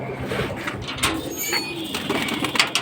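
Pigeons coo softly and repeatedly against a busy, noisy background.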